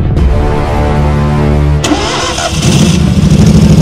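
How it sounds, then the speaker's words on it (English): Honda petrol engine on a Stella URS100 remote-control mower cranks and catches, its steady harmonic idle then breaking into a rougher, louder running note, close and loud with no talk. "Listen to that Honda engine purr."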